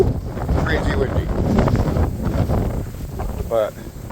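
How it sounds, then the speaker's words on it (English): Steady wind buffets the microphone beside a lake bank with a rough low rumble throughout, loud and close, with a few brief higher sounds rising over it near the end. "it is windy. Woo! Crazy windy."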